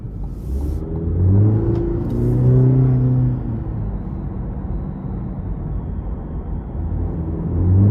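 A 2023 Cadillac CT4-V with a 2.7-litre turbo four-cylinder accelerates in track mode, its engine droning loud and close from inside the cabin, swelling and easing as it pulls through the gears.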